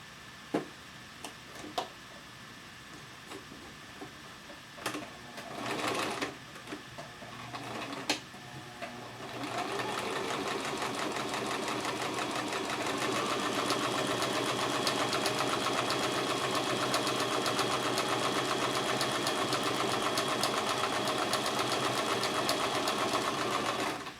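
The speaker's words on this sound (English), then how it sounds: "you want to stitch your layers together a quarter inch from the edge on the long side only for both sets" A sewing machine stitches fabric layers for a box pouch, starting with a few knocks and short runs, then settling into a long, steady, close mechanical whir.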